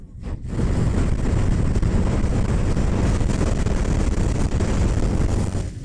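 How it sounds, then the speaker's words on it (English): Heavy wind buffets the rider of a Triumph Rocket 3 GT 2500cc motorcycle on the road, a loud, steady roaring rush that swells in after a brief quiet start and stays dense throughout, with no talking. "Here on the road, the wind hits you right in the chest."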